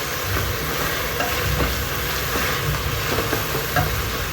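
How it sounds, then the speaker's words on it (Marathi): Chopped tomato sautéing with onion in a pan for a prawn pulao, producing a loud, steady frying hiss with faint stirring scrapes throughout and no voices. "एक मोठा टोमॅटो तो आता परतून घेऊया आपण"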